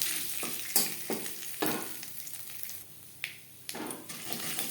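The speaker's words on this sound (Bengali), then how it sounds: "ফোড়নে দিয়ে দিলাম পাঁচফোড়ন তেজপাতা" Five-spice seeds and bay leaf crackle and sizzle in hot oil in a wok, broken by several sharp scrapes and knocks of a spoon against the pan.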